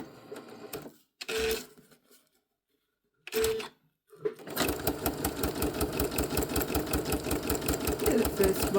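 Domestic sewing machine stitching rows on a small fabric scrap tag: two short bursts of motor whir, a pause, then a long run of fast, even mechanical stitching chatter close to the mic.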